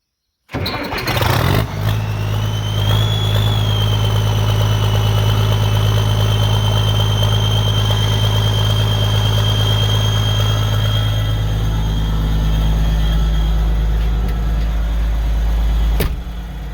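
A Case 1570 tractor engine fitted with a cab kit cranks, catches and settles into a loud, steady diesel idle, heard close from inside the cab, with a sharp knock near the end and no talk.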